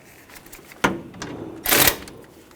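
A 10mm socket on a ratchet loosening radiator bolts on a 2004-2012 Chevrolet Colorado 3.7L, giving two short metallic clicking bursts, close and fairly loud, in an otherwise quiet garage.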